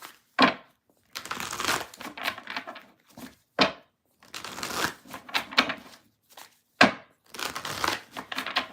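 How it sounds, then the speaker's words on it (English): A tarot card deck shuffled up close, with several rapid papery bursts of riffling and flicking cards broken by brief quiet gaps, with no voice over them. "Last deck to shuffle."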